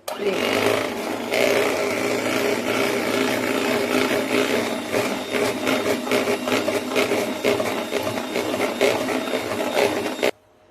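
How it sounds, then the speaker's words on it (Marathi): An electric hand beater whips an ice cream mixture with powdered sugar, a close, steady whirring motor buzz with slight rattling that runs continuously for about ten seconds before cutting off abruptly, with no talking. "पिठी साखर घातल्यानंतर मी एकदा बीट करून घेते."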